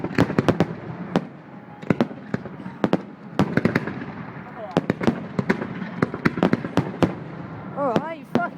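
Fireworks burst repeatedly in sharp, irregular cracks and bangs, some with whistling crackle, over a busy outdoor backdrop as people talk nearby.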